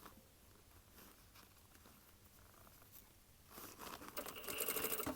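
A sewing machine runs on a leather jacket being altered, starting faint and then whirring louder and faster with rapid stitching clatter near the end.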